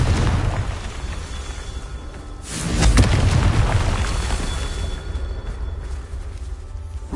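A Confringo blasting spell explodes in the video game Hogwarts Legacy, a deep booming burst that swells sharply partway through over a constant low rumble, then trails off into a long roaring decay.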